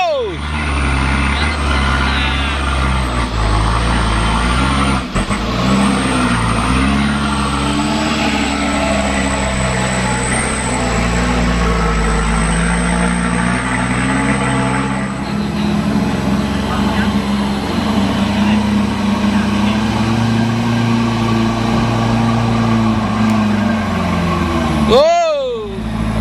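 A Fuso Canter truck engine labors loud and steady up a steep hill, its low drone shifting in pitch as it pulls, with occasional voices in the background.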